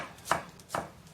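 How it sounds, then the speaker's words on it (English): Two crisp knife strokes chop a small bell pepper against a cutting board, close and distinct, spaced about half a second apart with no talking. "Let me finish chopping this little bell pepper"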